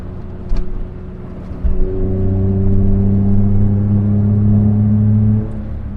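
The 989cc engine of a Daihatsu Handivan L700, fitted with a performance manifold and gas-flowed head, climbs from a brief blip into a sustained, rising growl heard from inside the cab before easing off.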